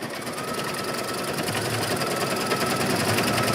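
A sewing machine stitches fabric with its presser foot down, a steady fast mechanical whirr and rapid needle chatter that runs loud and unbroken throughout, close by with no talking.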